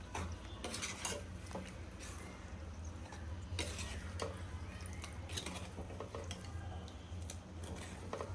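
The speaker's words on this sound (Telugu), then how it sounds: "చక్కగా ఇలా కలుపుకోవాలి." Chicken pickle being stirred and mixed in a pot or bowl, giving soft, continuous scraping and clinking of a spoon against the vessel, fairly faint and close, with no talking.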